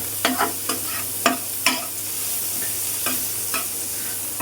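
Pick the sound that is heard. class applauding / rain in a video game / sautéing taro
sautéing taro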